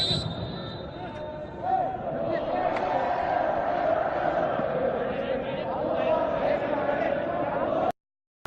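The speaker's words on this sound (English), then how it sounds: "the crowd breaking out to song here" A stadium crowd breaks into song during a U23 Vietnam vs U23 Syria football match at the AFC U23 Championship, a broad, sustained chant of many voices under a commentator's talk.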